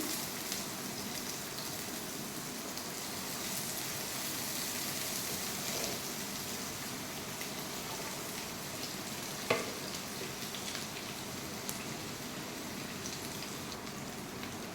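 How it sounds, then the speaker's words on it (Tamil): Finely chopped onions dropped into hot oil with half a spoon of cumin seeds, a steady rain-like sizzle and crackle with occasional faint stirring clicks, continuous and fairly soft. "ஆயில் நல்லா சூடாகட்டும்னு ஆனியன் போட்டுக்கலாம்."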